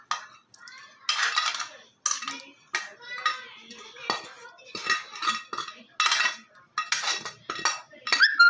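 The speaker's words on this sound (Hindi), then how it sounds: "इसको मैं ना बाउल में निकाल लेती हूँ।" A spoon scrapes and clinks against a metal pan as a cooked mixture with cumin is transferred into a bowl, with repeated close, sharp clatters and brief scraping strokes in an irregular rhythm.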